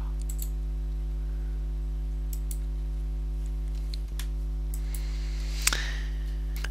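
A computer mouse clicks a few times, sharp faint ticks scattered across a quiet background with a steady low electrical hum, one louder click near the end.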